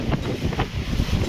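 Fierce night wind, gusting at 60–70 speed during a rainstorm, rumbles in loud, uneven gusts and buffets close to the microphone.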